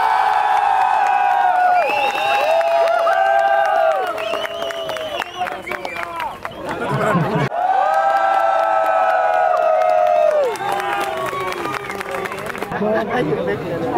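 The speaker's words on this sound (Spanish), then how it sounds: "El aplauso para Mimikyu." Crowd at an unofficial Pokémon GO raid day event cheers and applauds a Mimikyu costume during a costume prize contest, with loud chatter and a voice speaking over the clapping throughout.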